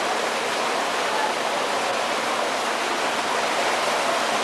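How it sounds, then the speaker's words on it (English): Water runs constantly through tanks in a walleye fish hatchery, a steady, even rush with no breaks, fairly loud and close, with no voices. "You hear the constant sound of the water running in the hatchery."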